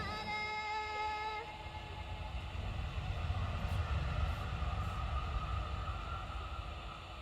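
A passenger train on a Tibet line rumbles along as heard from inside its dining car, a steady low roar of wheels and carriage noise, with a brief tonal whine near the start.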